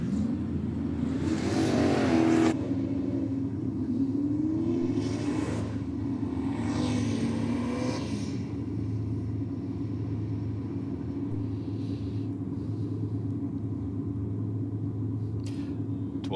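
Race cars, including a Datsun, run on a track with a deep steady rumble, while several cars accelerate past with rising engine whines and sweeping passes, the first loud and near, later ones fainter.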